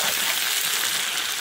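Garlic cloves go into hot oil while a Bengali garlic pickle is being made, giving a steady, bright sizzle that stays loud and even throughout, with no voices over it.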